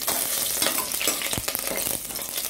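Two green chillies added to hot oil with fried spices for a chicken biryani in a pressure cooker, crackling in a loud, dense sizzle with brief stirring clatters, close and without speech.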